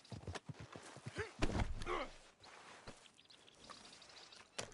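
Horse hooves clip-clopping in the game Red Dead Redemption 2, a run of uneven near hoof beats with a brief whinny-like sound, no talk over them.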